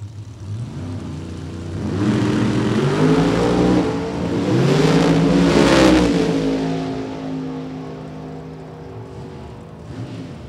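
A Pro Charge Corvette drag car blasts down a quarter-mile strip, its supercharged engine climbing in a loud, sustained roar that swells as it passes, then fades away into the distance.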